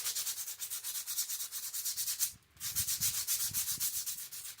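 Steady back-and-forth rubbing of 3M sandpaper on a brake wheel cylinder part from a 1969 Morris Minor 1000, close and continuous with one brief pause midway, outdoors in the rain.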